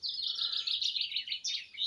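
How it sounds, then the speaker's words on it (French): A European robin sings in a garden beside a pond, a continuous thin, high warbling phrase of trills and twitters, fairly close and clear over a quiet background. "pour vous laisser écouter le chant des oiseaux."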